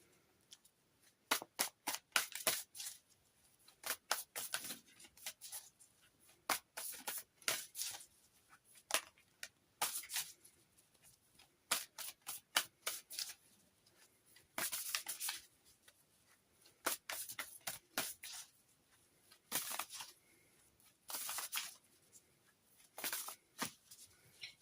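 Mystic Palette Tarot cards being shuffled by hand, giving close, crisp riffling bursts in repeated clusters with brief pauses between, faint overall and with no talking.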